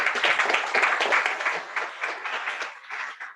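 Audience at a Bay Area transportation panel applauding the speakers, dense clapping that starts strong and gradually thins out over a few seconds.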